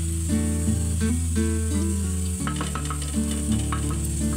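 Ghee sizzles in a pan as sago dessert ingredients fry, with stirring; a steady hiss and crackle grows livelier partway through, under background music.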